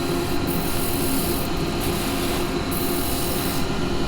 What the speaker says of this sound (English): I'm just going to use this my little palm sander here, which I'm so glad I made up.